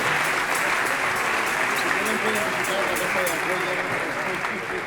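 An audience at a gathering in Compostela breaks into sustained applause for two honorees, a thick wash of many hands clapping throughout, with voices mixed in among the clapping.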